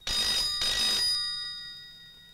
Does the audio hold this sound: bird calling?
no